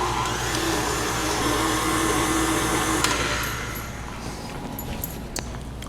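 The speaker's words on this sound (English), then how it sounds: "If you're using a stand mixer, throw that on there with your whisk attachment and just mix this all up until it is combined." A stand mixer fitted with a whisk attachment whirs steadily as it mixes browned butter chocolate chip cookie dough, a continuous close motor drone that eases off toward the end with a few small clicks and knocks.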